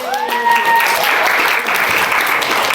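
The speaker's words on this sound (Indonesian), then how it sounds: "Oke, tepuk tangan lagi" A classroom of pupils claps together, a brisk, fairly close burst of many hands that overlaps the tail of a spoken voice at the start and then continues evenly.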